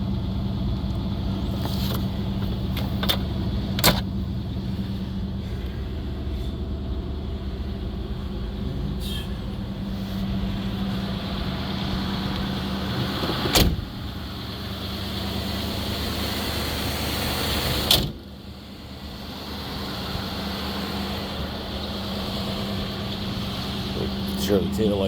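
A 1983 Chevy Silverado square-body truck with a 305 V8 idles steadily with a low, even hum, broken by a few sharp clicks and clunks nearby.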